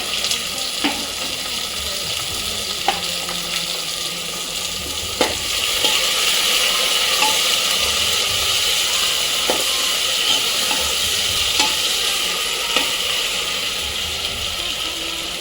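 Ginger garlic paste sizzles steadily in a pressure cooker pan while it is stirred for a masala veg pulao. Light scrapes and clicks of the spoon sound over the continuous close frying hiss.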